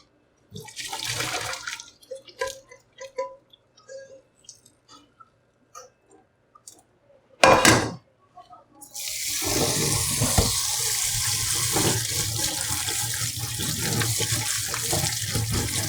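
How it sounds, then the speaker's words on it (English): Cold water runs steadily from a kitchen tap while cooked noodles are rinsed under it for Korean janchi guksu, a loud continuous splashing that sets in after scattered handling clatter and a brief sharp burst. "I will rinse it in running cold water."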